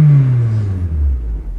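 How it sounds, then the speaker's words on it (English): A 2007 Honda Civic engine revving, its low rumbling pitch sliding steadily downward as the revs fall, loud and close. "This engine sounds good even when revved."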